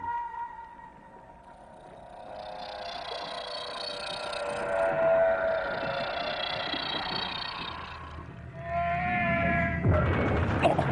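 A whale call is played underwater to draw in Basilosaurus, rising and falling tonal cries that swell to a strong, sustained sweep, with a heavy low rumble building near the end.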